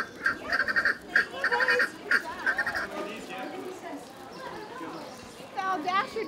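Bursts of harsh, rapid chattering guineafowl calls repeat in quick clusters, fairly close, in a park, with a person talking softly in the background.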